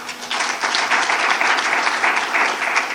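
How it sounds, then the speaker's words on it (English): An audience at a talk on trustworthy, rigorous evidence gives a speaker a steady, full round of applause, many hands clapping together at close, even loudness throughout. "Let's give a round of applause to Tim"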